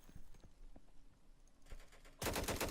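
Gunfire in the tactical shooter game Insurgency: scattered distant shots early on, then a loud, dense burst of rapid automatic fire near the end.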